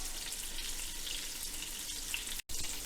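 Redfish cakes frying in clarified butter, a fine steady hiss and crackle of hot fat, quiet and continuous, with a brief dropout near the end.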